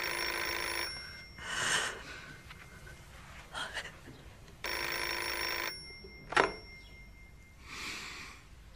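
Telephone ringing indoors with long electronic bursts, two clear rings separated by quieter handling noises and a sharp click, no talk over it.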